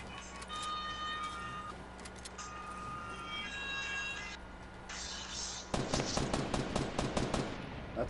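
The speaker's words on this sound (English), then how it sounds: "Ignore the shooting." Fortnite gunfire: faint bursts and pops over game ambience at first, then a loud stretch of rapid, rattling automatic shots near the end, with no talking.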